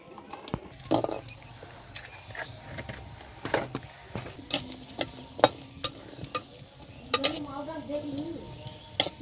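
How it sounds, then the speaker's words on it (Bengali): Pumpkin bori lentil dumplings frying in oil, a faint sizzle under scattered sharp clicks and scrapes of a spatula against the pan, close and irregular. "এই যে কুমড়ো বড়িগুলো ভাজা নেব"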